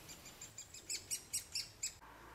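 Great spotted woodpecker chicks calling from inside the nest: a run of about seven shrill, high chirps in a steady rhythm, fairly faint, with no one talking.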